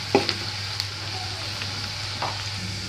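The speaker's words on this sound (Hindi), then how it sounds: "इसे ब्राउन गोल्डन ब्राउन कलर आ जाएगा तब तक फ्राई करेंगे।" Garlic sizzles steadily in hot oil in a pan, a close, even hiss with a few soft stirring scrapes and no talk.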